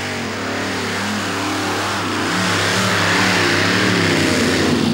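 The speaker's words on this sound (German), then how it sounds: "Peter Larsen aus Dänemark mit 4 aufgeladenen V8-Motoren." A tractor-pulling machine with four supercharged V8 engines revs loudly and continuously at a 1994 pulling event in Erkelenz-Holzweiler, Germany, its roar building steadily and staying dense throughout.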